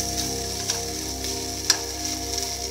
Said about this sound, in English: onions and ginger garlic paste has been fried properly